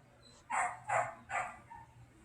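Dog barking nearby, three loud sharp barks in a quick even row, followed by a fainter yip.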